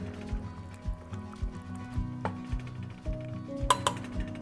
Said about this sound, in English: I'm going to take the lid off and I'm going to give it a nice gentle little stir with my spoon